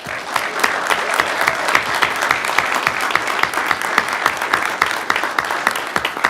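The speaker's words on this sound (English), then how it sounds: "So if we could give a round of applause for Mike." A round of applause breaks out at a city council meeting, a steady, dense patter of many hands clapping at moderate distance that holds evenly for several seconds.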